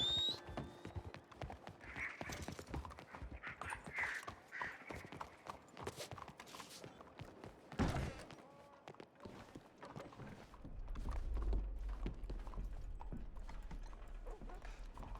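Steady clip-clop of horse hooves while riding in Red Dead Redemption 2, a continuous rhythmic trot of close hoof strikes with tack rattling, and a low rumbling bed of ambience swelling in the final seconds.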